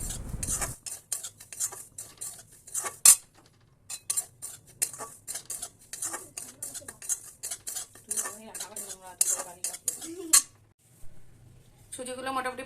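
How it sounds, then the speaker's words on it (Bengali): Semolina frying in a wok while a metal spoon stirs and scrapes it, giving repeated clinks and scrapes of cutlery against the pan, with someone talking over much of it. "সুজিটা দিয়ে আমি এখন 5-7 মিনিট একটুখানি হালকা হালকা লাল লাল করে একটু ভাজবো"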